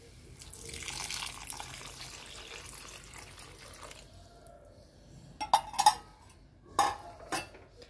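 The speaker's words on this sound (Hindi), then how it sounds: "अब इसमें हम डाल देंगे कम से कम एक गिलास तक पानी" Water is poured into a pan of frying bottle gourd, followed by a few sharp clinks and scrapes of utensils against the cookware.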